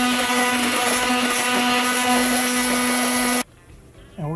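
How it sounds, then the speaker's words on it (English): An immersion blender whirs loudly and steadily through pumpkin soup with heavy cream, a dense motor drone that cuts off abruptly, followed by a brief quiet pause and a short voice. "Now it's time to jizz it up with a immersion blender"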